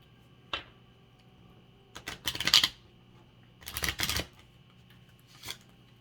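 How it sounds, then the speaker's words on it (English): Tarot cards being shuffled close by: a quick riffle, then two longer crisp flurries of shuffling and a final short riffle, with quiet pauses between. "We're going to shuffle these one more time after this"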